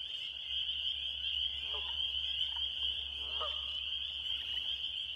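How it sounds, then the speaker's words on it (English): Leopard frog calls in a Beaver Creek marsh, a couple of brief guttural croaking bursts heard over a steady, loud chorus of other frogs. "So there's the leopard frog is off this way."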